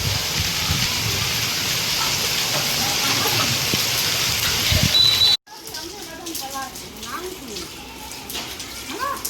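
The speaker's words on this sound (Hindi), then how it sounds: "बारिश शुरू हो गई है।" Rain falls in a steady, loud hiss for about five seconds, then cuts off abruptly into a quieter stretch where speech-like voices can be heard.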